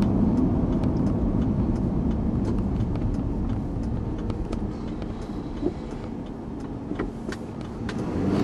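A Ford Ranger pickup with a 4.0-liter V6, not yet fully warmed up, hums steadily from inside the cab while driving, with road rumble and occasional small clicks and rattles beneath; nobody speaks.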